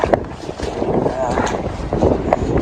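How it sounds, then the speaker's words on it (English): Gusty wind buffets the microphone on the bank of a flooded river, a rough close rumble that rises and falls in bursts, with a voice speaking through it. "Very windy coming up."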